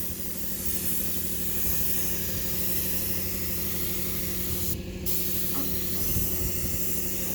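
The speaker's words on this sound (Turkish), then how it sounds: "Evet kompresör çalıştı." A steady, loud mechanical drone with hissing air, an air compressor running continuously and close by during spray painting of Tofaş car bumpers, with a brief spray of air partway through.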